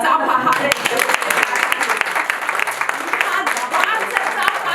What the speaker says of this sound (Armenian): մի հատ եկեք ծափահարեք